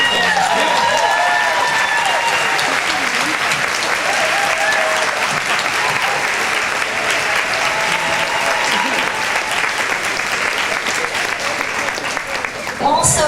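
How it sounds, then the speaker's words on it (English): Honorees at a banquet event receive a big round of applause, loud sustained clapping from a full room with voices and cheers mixed in, tapering slightly near the end. "let's give them a big round of applause as well"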